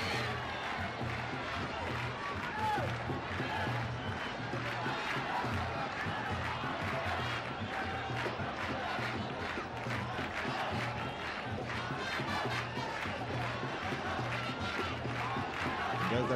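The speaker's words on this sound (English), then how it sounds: "So the crowd's absolutely elated." A cricket stadium crowd cheers and roars after a boundary in a 1996 World Cup match between Sri Lanka and Kenya, with a dense, sustained wash of shouting and clapping from a large audience filling the whole stretch.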